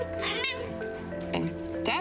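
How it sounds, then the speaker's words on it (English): A house cat meows loudly and close, several drawn-out plaintive calls over a couple of seconds, heard alone with no talk. "And that's my cat saying I should explain more."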